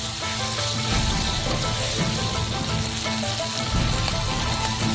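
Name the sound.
sautéing black beans and ingredients in a frying pan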